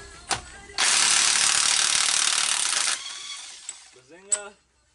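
An impact wrench with a 32 mm socket spins off an axle nut on a 2007 Dodge Caravan. It gives one loud, close, continuous burst of about two seconds, then a few small clicks and a short voice.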